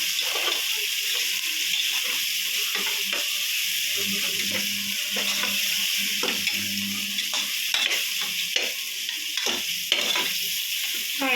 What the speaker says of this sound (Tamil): நான் ஒரு ஐம்பது எம்எல் நல்லெண்ணெய் ஊற்றி வதக்கி பாருங்கள்